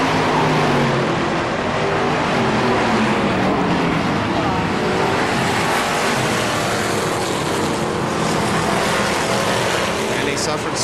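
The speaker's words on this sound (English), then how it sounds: "Closing on the 28 of Danny Suffren, right on his back bumper going into turn 1" Race cars circle a speedway track at a Fourth of July race, a dense, loud, steady engine roar that never lets up.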